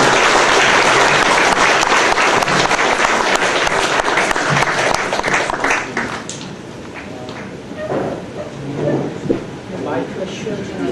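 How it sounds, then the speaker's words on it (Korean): A hall audience at a professor's retirement ceremony applauds a guest, loud dense clapping that holds for about six seconds and then thins into scattered claps as voices talk and the room noise returns. "박수로 환영합니다."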